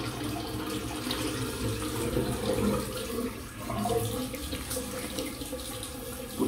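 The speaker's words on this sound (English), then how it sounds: "Sorry about the sound of running water." Water runs steadily from a tap into a sink, a continuous close splashing rush that never stops or changes much.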